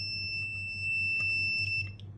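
Electronic beeps sound from a Williams Defender pinball machine during a test switch check: bright, steady high-pitched tones sustained across the clip over a low hum, with several faint clicks near the end.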